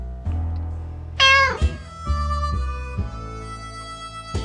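A cat in the video game 60 Seconds meows twice in quick succession, loud and close, followed by a couple of shorter mews over a low steady hum, with synthetic game-like sound.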